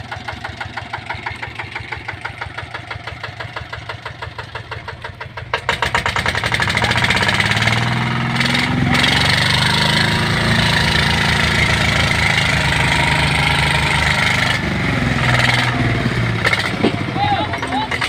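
A tractor engine knocks at a rhythmic idle, then revs up loud and holds under strain as it pulls out of deep, sloppy mud, with voices talking over the engine throughout.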